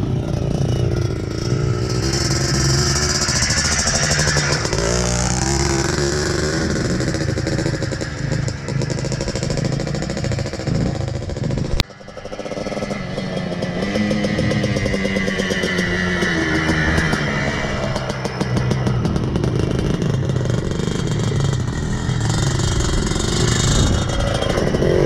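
A Yamaha Blaster 200cc quad rides continuously nearby, its engine loud and revving as it climbs and drops through second and third gears, with one brief dip at a gear shift midway.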